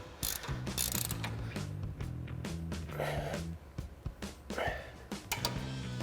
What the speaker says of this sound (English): Now we're going to tighten down our pitman arm nut with our 21mm ratchet wrench.